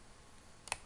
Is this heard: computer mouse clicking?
yes